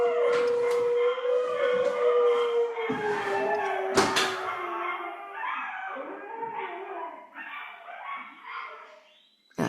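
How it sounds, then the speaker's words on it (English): Huskies howl in long, wavering, rising and falling cries close by, several voices overlapping, with a sharp knock or bang midway and brief yips between howls. "Huskies, they love doing that, as you know."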